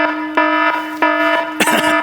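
A fake fire alarm sound effect blares as a loud electronic tone that repeats in rapid, evenly spaced beeps, ending with a harsher burst.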